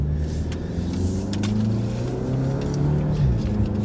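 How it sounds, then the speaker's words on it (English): Volkswagen Arteon car, a 2019 model, accelerating hard from a standstill, its engine note rising steadily and heard from inside the cabin for a few seconds with no talking. "Yeah, that was a fast takeoff there, Nathan."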